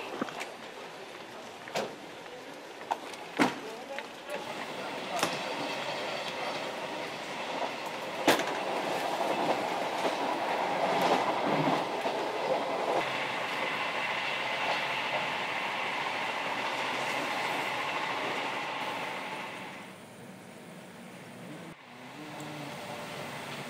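A passenger train runs along the rails, opening with sharp clicks and knocks before settling into a steady rolling rumble that fades noticeably near the end; no one speaks.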